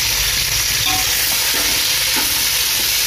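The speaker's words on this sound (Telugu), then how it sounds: "ఆ తిరగమాతలో కోసిన టమోటా ముక్కలు, ఉల్లిపాయ ముక్కల్ని వేశారు." Chopped tomato and onion dropped into hot tempering oil for a brinjal and dried fish curry, sizzling loudly and steadily while a spoon stirs them through, with no voices.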